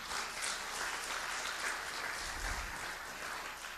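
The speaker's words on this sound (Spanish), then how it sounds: "Den el aplauso fuerte al Señor." Congregation in a Spanish-language church service applauding loudly and continuously, a dense, steady wash of many hands clapping together with no break.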